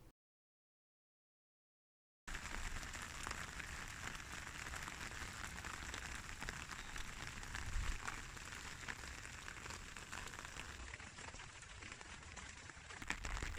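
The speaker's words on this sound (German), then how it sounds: "Hinter Maqueda wird der Regen stärker, es ist kalt, windig und so richtig ungemütlich." Steady cold, windy rain patters on a surface near Maqueda, Spain, after a couple of seconds of silence, a dense, even hiss continuing throughout with no voices.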